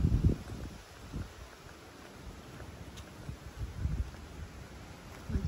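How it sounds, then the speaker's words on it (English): Wind moving through a forest with leaves on the ground, heard as a faint, steady rustle broken by low, rumbling gusts that buffet the microphone at irregular intervals, with no voices. "I can hear the wind. It's a warm wind."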